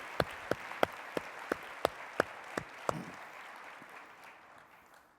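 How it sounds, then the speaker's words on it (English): Audience applause at an award ceremony for an online learning symposium, heard as about nine sharp, evenly spaced claps fading into a softer, thinning patter toward the end. "let's give him a round of applause"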